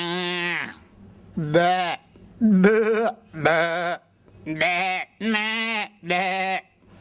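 A man imitates a cow in a mimicry act, giving about seven separate drawn-out mooing calls one after another with short pauses between them, close and fairly loud, each call wavering in pitch.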